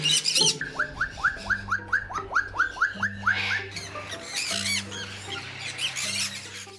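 Pet eclectus parrots and green-cheeked and sun conures calling indoors, with a quick rhythmic run of about a dozen sharp squawks followed by scattered louder screeches over a low steady hum.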